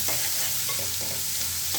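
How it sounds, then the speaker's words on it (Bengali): Sliced onions and green chillies fry and get stirred in a pan of hot oil, a steady close sizzle with scraping strokes throughout and no voices. "পেঁয়াজগুলিকে সুন্দর মতন ব্রাউন কালার করে ভেজে নিই"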